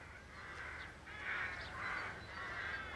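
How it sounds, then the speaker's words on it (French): Rooks in a city park rookery give hoarse caws in three or four repeated bursts, answering each other from the trees at moderate distance over faint background hum. "Les cris rauques des oiseaux se répondent d'une branche à l'autre"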